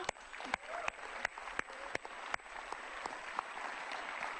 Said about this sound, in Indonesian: Sekali lagi tepuk tangan dong untuk Pak Emto